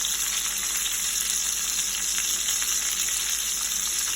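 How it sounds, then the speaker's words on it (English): Pork and pancetta fry in a pan with a dense, steady, close sizzle that holds unbroken throughout, no voices. "And we'll stir our pancetta around."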